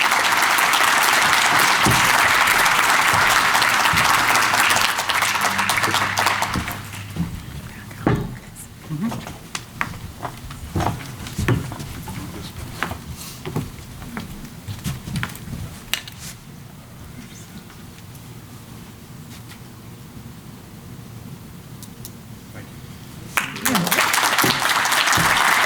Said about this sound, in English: Please join me in giving a round of applause to the award winners as they come to the stage to accept